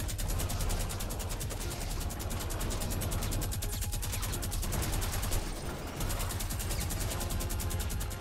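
Fortnite minigun firing in a rapid, continuous mechanical rattle, loud and sustained with only a brief dip partway through, nothing else over it.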